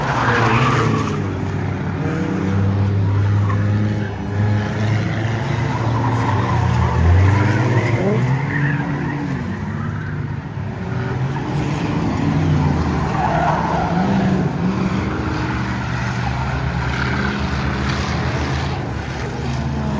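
Race cars roar around a track at a demolition-style racing event, with loud continuous engine drone, shifting pitch as cars pass, and occasional tire skids throughout.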